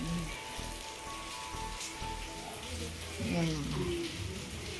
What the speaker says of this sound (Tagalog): Ayan ang lakas na ng ulan.